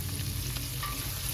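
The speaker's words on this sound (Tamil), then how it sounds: "உப்பு போட்ட கையோடையே கொத்தமல்லி தலையும் இதுலேயே எண்ணெயிலேயே போட்டுக்கிறேன்." Coriander leaves and salt hit hot oil in a pan for a Tamil santhagai dish, giving a close, steady, dense sizzle that stays loud and even throughout with no voices.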